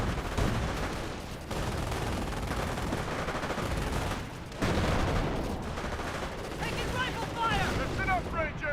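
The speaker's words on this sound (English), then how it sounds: "Grenades been thrown. Gets a pretty good hit there." Dense battle noise from the WWII strategy game Company of Heroes, with sustained gunfire and heavy grenade blasts at around 1.5 and 4.6 seconds, a loud, continuous wash of combat.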